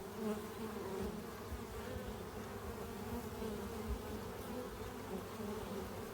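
Honey bees buzz around a hive while collecting dandelion pollen, a steady, faint, continuous droning hum with no pauses.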